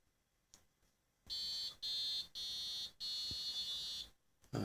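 BBC micro:bit timer sounding a run of shrill electronic beeps in quiet surroundings: four long, loud tones separated by short gaps, followed by a brief burst as it finishes with a tune.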